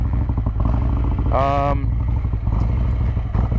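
Motorcycle fitted with a KROME WERKS exhaust running at a steady rumbling idle, loud and close, with a voice speaking briefly over it.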